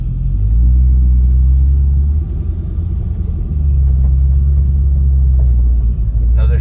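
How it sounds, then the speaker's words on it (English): Motorcycles driving past at a rally in Cave Creek, Arizona, making a loud, continuous low rumble of engines that holds steady and swells slightly with no break, with no talking. "There's a lot of motorcycles"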